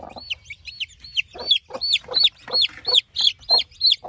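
Backyard hens, including silver laced Wyandottes, cluck and chirp close by in quick repeated calls, a lively steady run of fowl sounds with no talking.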